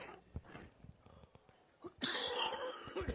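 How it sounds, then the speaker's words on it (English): A few short coughs and throat sounds break the quiet near the microphone, followed by a burst of louder rustling noise. "excuse me, lingering cough here."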